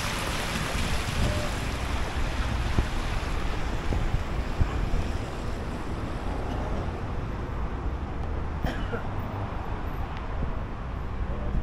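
Broad, steady rush of falling water from a waterfall in Johannesburg, a constant noisy wash with wind buffeting the microphone and no clear voices.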